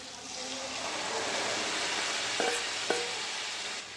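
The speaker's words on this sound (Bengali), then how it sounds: "এখানে সেদ্ধ করে রাখা তরকার ডালটা ঢেলে দেবো মশলার মধ্যে" Boiled tarka dal goes into a pan of sizzling spice masala for egg tadka, making a soft continuous hiss and sizzle with a couple of brief clinks of a spoon against the pan near the end.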